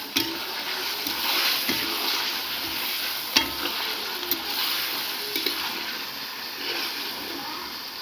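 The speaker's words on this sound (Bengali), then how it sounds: "এবারে দিয়ে দেবো মাংস, দিয়ে দিচ্ছি পরিমাণ মতন লবণ। ভালো করে নেড়ে নেব।" Meat frying with onions in hot oil while being stirred, a steady sizzle with scraping and clinks of the spoon against the pan, close and continuous, no talking.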